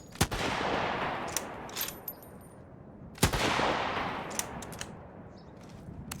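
Rifle fire in a video game: two sharp, loud shots a few seconds apart, each followed by a lingering noisy tail, with a few fainter clicks and bangs between.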